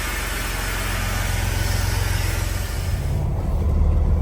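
A heavy Detroit diesel truck engine, newly installed, idles close by in cold, snowy weather, a low steady rumble with a rough, vibrating chug throughout.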